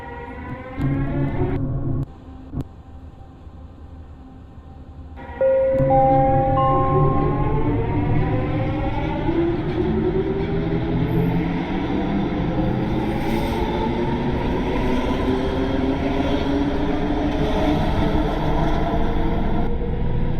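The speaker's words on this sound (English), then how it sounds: "You cannot beat the sound of a Mark 1" A Mark 1 train in a Roblox game runs steadily with a loud, continuous motor drone and rising whine, and the pitch climbs as it accelerates away from a station.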